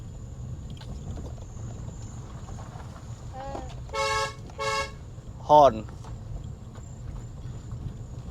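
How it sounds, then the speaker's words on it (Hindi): On a hill road, a car horn gives two short toots in quick succession, then a third brief honk follows over a quiet engine background. "दिखाई नहीं दे रहा है, आप हॉर्न दे दीजिए।"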